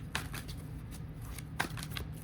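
Quiet riffling bursts of playing cards being shuffled, two distinct flicks separated by soft rustling, faint over a low background hum.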